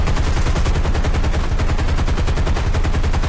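Rapid automatic aircraft cannon fire strafing an enemy airfield in the War Thunder combat flight game, a dense continuous burst of gunfire that rattles steadily and loudly for the whole stretch with no talk over it.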